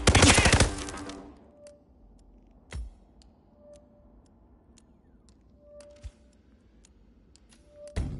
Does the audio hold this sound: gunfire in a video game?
yes